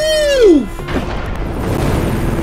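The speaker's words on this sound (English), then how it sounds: "the explosions are way too hype" A loud explosion in the Spider-Man video game, with a falling, sweeping whistle and a sharp crack, then a sustained rumbling roar of debris and blast noise.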